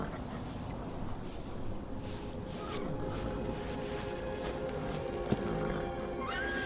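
A horse whinnies in a family fantasy adventure film scene centred on a stallion, a brief neigh rising near the end over a steady busy background with scattered clatter.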